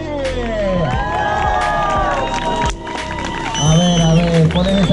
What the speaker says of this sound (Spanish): a la cuenta de tres quiero que me regalen gritos, silbidos y muchos aplausos